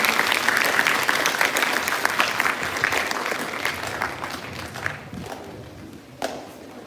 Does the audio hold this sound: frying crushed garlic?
no